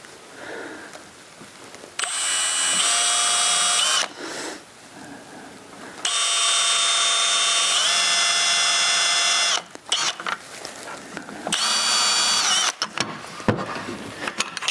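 Power drill boring two pilot holes into wood for an indoor ladder: loud whining bursts of a few seconds each, separated by short pauses and handling clatter, with no talking.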